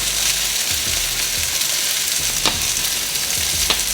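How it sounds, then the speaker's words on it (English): Broccoli and hard white-tipped onions sizzle and crackle steadily in a hot pan for chicken lo mein, with occasional scraping stirs over a constant loud frying hiss. "I'm gonna throw in some broccoli, these hard onions with the white tips because they take longer to cook."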